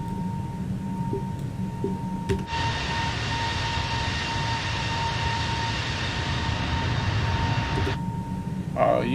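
Avianca Airbus A320neo engines in Microsoft Flight Simulator, with speed brakes deployed, swell into a loud, steady roar for about five seconds over a constant low hum, then drop back abruptly.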